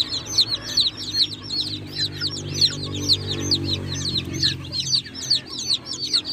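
Day-old chicks peep constantly in rapid, high chirps while drinking sugar water mixed with dextrose, a busy overlapping chorus with a low hum underneath.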